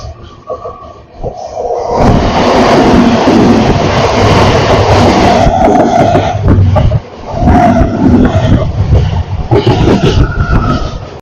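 The Tamralipta Express, heard from on board after leaving Mecheda, runs with a loud, sustained rumble and rattle, with a brief dip in the roar partway through and no voices.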